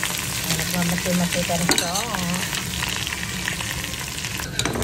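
Chicken liver frying in a pan for tinola sizzles with a loud, constant hiss and crackle up close, while a person talks briefly over it.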